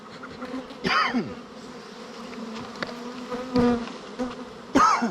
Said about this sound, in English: Good news is I just got rid of most of the mean bees.